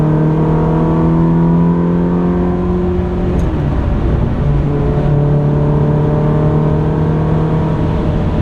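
A 2004 Ferrari 360 Modena with a nearly 400-horsepower V8 and 6-speed manual accelerates, its engine note climbing loud and close, dipping briefly as if for a gear change, then rising again.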